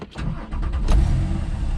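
Flat-six engine of a Meteor Grey 2015 Porsche 911 Carrera S 997 Gen 2 coupe with PDK and Sport Chrono cranking and catching, settling into a loud, close, steady idle thrum with no talking.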